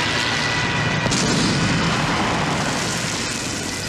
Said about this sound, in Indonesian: Товарищ комиссар, авиация противника.